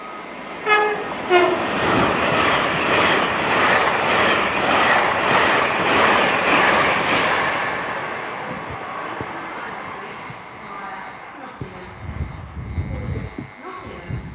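A non-stopping train races through platform 2 at Grantham station on the East Coast Main Line. There is a horn blast at the start, then a loud rushing roar of wagons that fades away, followed by faint station noise.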